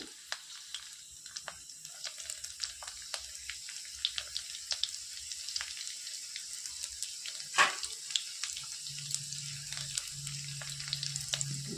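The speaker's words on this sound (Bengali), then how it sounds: "তেলটা গরম হয়ে গেছে প্রথমে এতে একে একে সব মশলাগুলো ভেজে নেব রসুন কুচি" Spices and chopped garlic fry in hot oil for a butter tadka, making a quiet, continuous sizzle dotted with sharp crackles and pops, with no talking.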